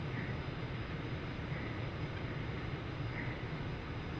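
An F-104 Starfighter's jet engine drones in flight in DCS, a constant, even roar with a faint whine pulsing over it, heard from inside the cockpit.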